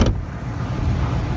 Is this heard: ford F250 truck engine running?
yes